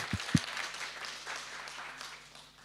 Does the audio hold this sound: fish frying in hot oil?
no